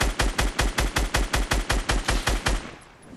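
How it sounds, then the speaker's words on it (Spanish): Rapid automatic gunfire in Fortnite's 50 vs 50 mode rattles off in an even burst of about fifteen loud shots, then cuts out into a fading echo. "Escucho tiros."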